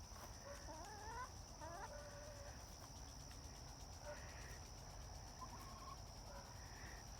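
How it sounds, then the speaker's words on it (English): A rooster crows a few times from some distance, the calls standing out over steady insect drone and faint outdoor background. "That rooster crowing is coming from next door."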